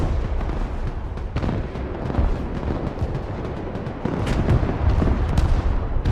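Artillery and gunfire in the video game Broken Arrow thud and crack in a dense, rumbling barrage, with distant booms rolling under sharper nearby reports that grow louder toward the end.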